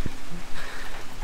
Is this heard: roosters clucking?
no